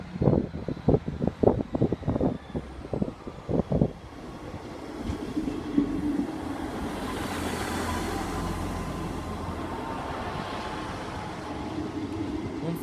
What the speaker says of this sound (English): leaving off platform number 4 at Grantham will be your 1731 Lima 12 Eastman's train service with Blind Tree to Norwich